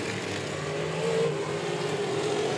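A race car in a 90-minute outlaw figure 8 endurance race at the Indianapolis Speedrome, its engine a continuous loud, even roar without any talk.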